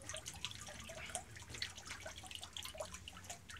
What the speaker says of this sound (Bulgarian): водата започва да се изцежда през ситото